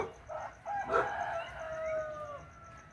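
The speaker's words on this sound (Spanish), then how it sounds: "les iba a grabar un pedacito para que oyeran cómo cantan los gallos" Roosters crow in drawn-out calls at dawn in the countryside, one after another, with a steady high insect-like hum in the background and no talking.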